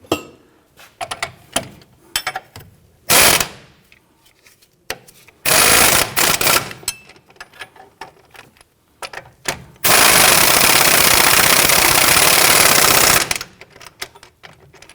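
Power tool tightening the strut-to-knuckle bolts on a 2011-2015 Kia Sorento, with short loud bursts of rattling impact-style hammering, including one long sustained run, separated by quieter clinks and handling noises.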